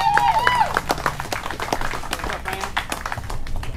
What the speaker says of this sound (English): Give Blake a big round of applause from 22Q.